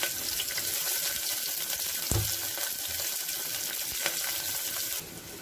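Sliced onions fry steadily in hot oil with green chillies, a continuous hissing sizzle running loud and close throughout, with a brief clatter near the middle and a slight drop in level at the end.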